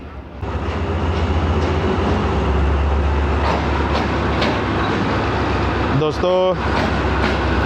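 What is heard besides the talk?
Awam Express passenger train arriving at station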